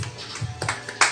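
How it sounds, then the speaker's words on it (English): A two-year-old child claps their hands indoors, giving a couple of soft, quick claps spaced a fraction of a second apart, with light background noise. "clap your hands."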